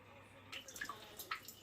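Water splashes and drips inside a KitchenAid dishwasher as a rinse-only cycle starts, producing faint irregular sloshing and trickling close by, with no voices.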